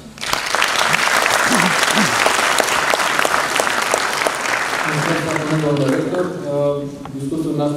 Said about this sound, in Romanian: am văzut că ați primit aplauze și de la ceilalți participanți din sală